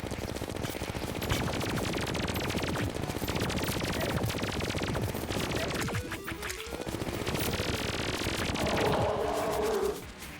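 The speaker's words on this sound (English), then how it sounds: "shot it with the Syringe Gun at the same time, so the Wall of Flesh stood no chance" Syringe Gun firing nonstop at the Wall of Flesh boss in Terraria, a dense, steady stream of rapid shots with chaotic game effects layered over it for the whole stretch.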